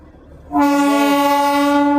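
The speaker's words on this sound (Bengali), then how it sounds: "দেখুন এখান থেকে টয় ট্রেন আসছে" The Darjeeling toy train sounds a loud, steady horn blast as it approaches at Batasia Loop. The horn starts abruptly after a quiet moment and holds close and strong to the end.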